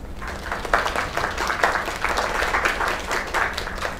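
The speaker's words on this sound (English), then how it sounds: "Another round of applause." Enthusiastic applause and clapping from a crowd at a singing performance, dense and steady for a few seconds with faint voices mixed in.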